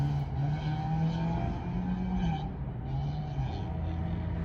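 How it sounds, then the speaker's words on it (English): Loud cars with aftermarket mufflers pass nearby, heard from inside a truck cab, giving a throaty, wavering exhaust drone that rises and falls as they go by. "those cars with those mufflers, man, they sound sick"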